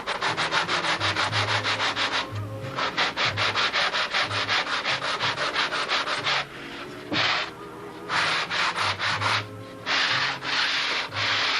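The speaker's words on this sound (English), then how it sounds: "this is where having this nice big piece of sandpaper on a table will give me a nice edge" A wooden model aircraft part, from a Brodak Cardinal wing, rubbed back and forth on a large sheet of sandpaper laid on a table, loud rhythmic scratchy strokes with a few brief pauses, close up and with no voices.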